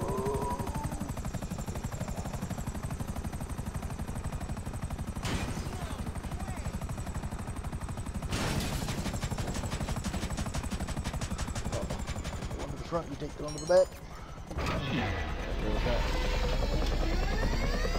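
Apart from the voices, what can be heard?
helicopter in a video game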